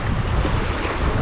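Rushing river water roars in a continuous broadband wash, loud and close, with no pauses, along a river bank before fishing.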